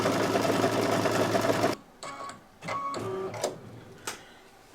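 An embroidery machine stitching a pattern runs in a dense, steady mechanical whir, then stops abruptly and gives a few short, separate clicks and whirs, close and moderately quiet.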